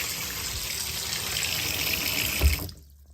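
Water flowing and gurgling down a slow, partly blocked laundry sink drain, a steady rushing wash that swells briefly near the end and then cuts off, leaving near silence.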